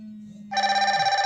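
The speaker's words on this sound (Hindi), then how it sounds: "आपकी वॉच में बजेगी रिंगटोन और होगा वाइब्रेशन" A Fire-Boltt Talk 2 Pro smartwatch sounds its incoming call ringtone, a bright pulsing electronic trill that begins abruptly halfway through and repeats rapidly, close and clear after a low steady hum.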